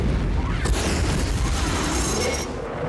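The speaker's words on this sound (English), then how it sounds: "explosion." A movie-scene explosion after an aerial dogfight with an alien craft: a loud, rumbling blast with crackling debris that sustains for a couple of seconds before cutting off.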